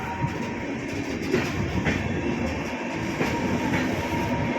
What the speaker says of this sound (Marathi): एका कोपऱ्यातून दुसऱ्या कोपऱ्याकडे जात असलेली ट्रेन